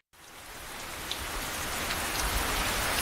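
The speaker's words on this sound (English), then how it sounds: "Hear that? That's the sound of a leaky roof." Steady rain dripping through a leaky roof, pattering on a hard surface, dense and continuous, with a few sharper drops standing out against the wash of noise.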